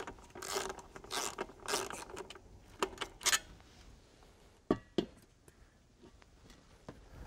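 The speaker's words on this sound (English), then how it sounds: "We'll see if we can get those tracks off." Ratcheting and metallic clicks from seat tracks being unbolted from a Buick Regal seat in a garage, with several quick bursts of clatter over the first few seconds, then sparser single clicks and knocks.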